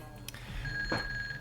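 A cell phone rings in the L.A. Rush racing video game, a short electronic chirp and tone over a low game background hum, faint and brief.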